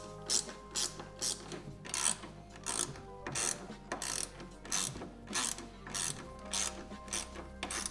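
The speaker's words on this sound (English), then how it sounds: "we're gonna remove the 2 bolts and nuts that hold this kicker plate on from the snowmobile" A hand ratchet loosens the two bolts and nuts holding a kicker plate on a snowmobile tunnel, while running boards are being installed. Its rapid pawl clicks come in a steady back-and-forth rhythm of repeated strokes, close and clear, with no talking.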